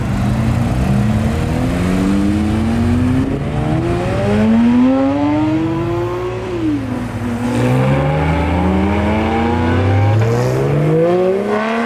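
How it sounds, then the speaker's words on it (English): Cars revving and accelerating as they pull out of a car show, engine notes rising and falling in overlapping sweeps as several vehicles pass close by in steady succession, loud and continuous throughout. "we are about to go watch cars leave"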